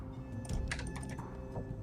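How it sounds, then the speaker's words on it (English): Keys on a mechanical computer keyboard clatter in quick bursts alongside mouse clicks during a Fallout 2 play session, close and fairly quiet, with no talking. "It's a nice mechanical keyboard."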